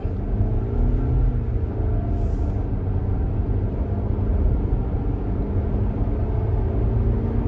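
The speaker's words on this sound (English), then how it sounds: "I noticed that the motor does sound a bit quieter with the CVT" Steady engine drone inside a moving 2021 Nissan Rogue with a CVT, low and rumbling with a rising tone as it speeds up from 30 to 80, road noise underneath and no talking.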